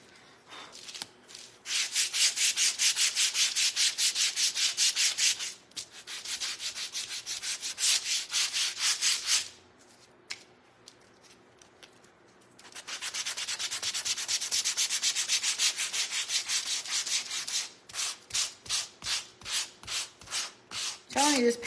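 Sandpaper rubbed back and forth over a painted patriotic firecracker craft piece, loud steady scraping strokes in long runs broken by short pauses, ending in quick separate swipes.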